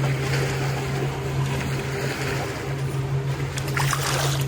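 Continuous rushing wash of boat wake waves against an Ohio shore with a steady low engine drone and some wind noise, no voices.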